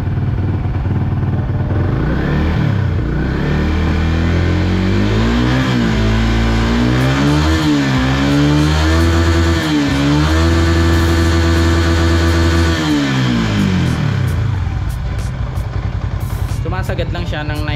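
A Yamaha Sniper 150 motorcycle engine on its stock ECU revs up repeatedly toward its limit, loud and close, with rising and falling whines and a steady high hold near the middle before dropping back to idle.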